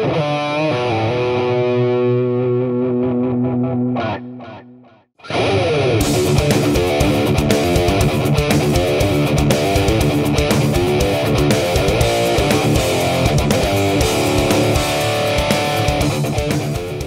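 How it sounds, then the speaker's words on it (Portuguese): Electric guitar played through a Boss Katana MkII amp on the lead channel with boosted overdrive and delay, first a sustained distorted phrase, then a brief pause, then a dense, fast solo with heavy gain. No voices are heard. "O canal de lead, um boost no overdrive e o delay."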